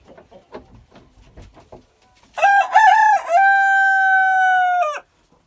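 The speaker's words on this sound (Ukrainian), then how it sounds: "Ой, як вони гарно піють." Young Amrox roosters crowing loudly and close by, one long sustained cock-a-doodle-doo following a few softer clucks and calls.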